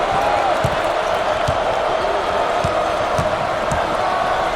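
Home crowd in NCAA Basketball 10 roars steadily throughout as a dense, loud wash of cheering, with occasional thumps and ball bounces under it.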